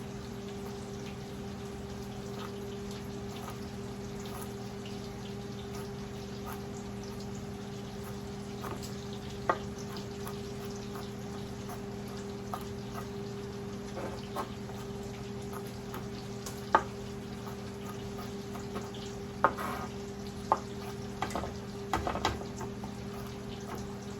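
Bacon fries quietly in a pan, a faint steady sizzle over a low hum with a few sharp pops and clicks scattered throughout.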